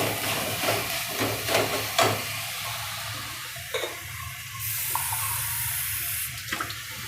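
Water poured into a pan of lightly fried coriander and oil while making Gujarati poha tikki, a running splashy pour with brief sizzles and stirring clinks, close and moderately loud with no talking.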